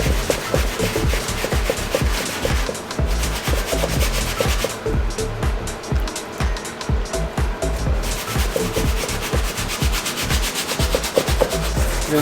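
A brush scrubs steadily at a dirty Off-White Jordan 1 sneaker, including behind the tongue, making a close, continuous bristly rubbing with rapid strokes that briefly thin out midway.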